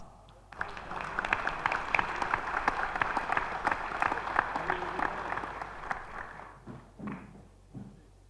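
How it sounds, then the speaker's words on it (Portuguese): Applause rings out in a municipal council chamber in Criciúma during a special session honoring an awardee, steady clapping from a gathered audience lasting several seconds before tapering off, with a few voices near the end. "vamos chamar à frente para que receba a sua homenagem com os nossos aplausos, Valmir D'Agostin"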